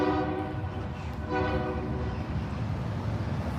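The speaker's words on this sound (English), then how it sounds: "we got the train going by again" A train rolls past nearby with steady low rumble, its horn sounding in sustained harmonic blasts that swell and fade across the passage.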